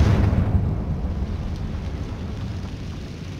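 A Confringo fire spell blast from Hogwarts Legacy lands as a loud, deep rumbling boom that rolls on steadily, slowly easing off over a few seconds with no voice over it.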